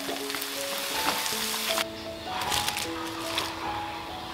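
Shrimp sizzling as they deep-fry golden in hot oil for fish sauce shrimp, a continuous close crackle with a soft musical tone underneath and a brief drop in intensity midway.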